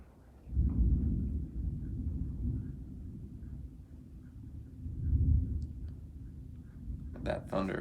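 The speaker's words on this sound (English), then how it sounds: "That thunder, it's not sound effects," Thunder from a real storm with heavy rain, a deep, long rolling rumble that swells early, fades and surges again, while a person talks over it.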